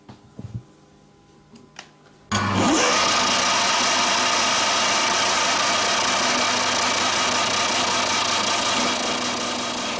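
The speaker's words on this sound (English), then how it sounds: "The lathe spins the wood really fast and a sharp blade cuts the edges off to make it round." A wood lathe spins a block of wood while a sharp blade cuts off its edges; after a quiet start with a few knocks, a loud, dense whirring roar starts abruptly and holds steady for the rest of the clip.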